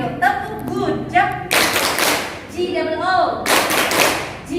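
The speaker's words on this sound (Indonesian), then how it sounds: "Ya, kasih tepuk good job yuk, tepuk good job." A school class performs the 'tepuk good job' chant, voices singing in rhythm and broken by two loud bursts of group clapping.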